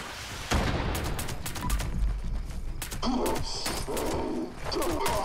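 Gunfire in the video game Fallout 76: a quick series of sharp shots and bursts, loud and close, mixed with game effects and brief quieter gaps.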